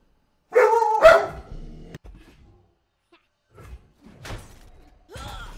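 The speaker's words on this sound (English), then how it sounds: "Harvey decided to start barking" A dog named Harvey barks loudly and close by, two sharp barks in quick succession followed by a few quieter, scattered yelps and some faint thuds.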